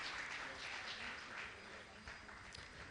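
A crowd at a Jain religious gathering applauds to honour a guest, steady dense clapping held at an even, fairly faint level throughout with a hint of voices beneath.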